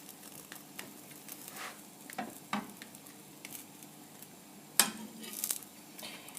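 A ham and cheese crepe browning in a hot pan gives a low, steady sizzle broken by scattered utensil scrapes and a few sharp clicks, with no one talking.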